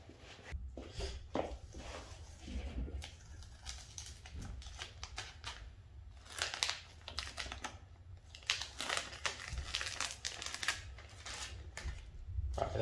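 Masking tape peeled off the freshly painted body of a Ford Crown Victoria, a steady run of close, crackling tears and rustles lasting throughout.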